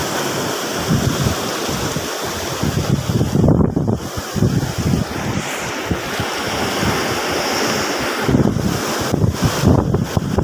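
Strong ocean surf at high tide rolls and crashes continuously on Sual Bagbag beach during beach casting, loud and close, with heavy wind buffeting the microphone throughout and no voices.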